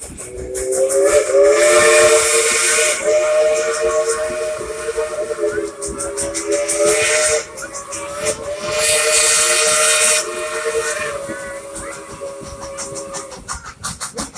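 The Dollywood Express steam locomotive sounds a loud, sustained whistle with a steady roar of hissing steam, the tone dipping and returning in long blasts over about fourteen seconds.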